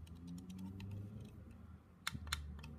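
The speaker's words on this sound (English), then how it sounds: "Nice clicky buttons" Buttons on a SMOK Koopor Plus vape mod click twice, close and sharp, over a low steady hum.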